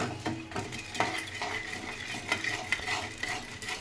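Tempering of chana dal, split chickpeas and spices frying in oil, a soft steady sizzle with repeated scrapes and clinks of a spoon stirring in the pan, close and moderately quiet.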